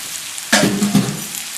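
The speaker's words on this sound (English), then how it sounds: "now we add the pasta" Pasta drops into a hot frying pan with mustard greens, setting off a sudden loud sizzle that crackles for about half a second, rises again, and then fades.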